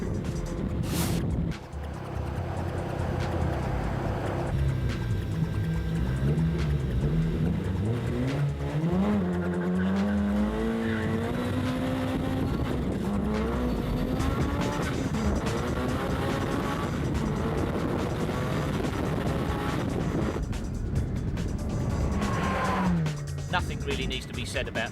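A nitro-powered RC car races nearby with a loud, continuous high-pitched engine whine that climbs and dips as it accelerates and slows, with tire squeals and skids mixed in.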